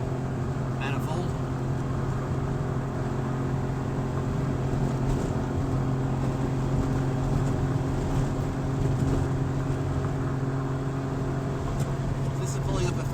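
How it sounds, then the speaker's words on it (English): A two-stroke Saab 95 engine with a small exhaust manifold leak drones steadily under load from inside the cabin, climbing a steep hill in 4th gear, a constant buzzing hum with little change in pitch throughout. "This is pulling up a fairly steep little hill in 4th gear."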